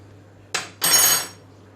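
A spoon clinks against a metal pot while scooping chicken, pea and potato stew, two close scraping bursts with a short gap between them, heard alone.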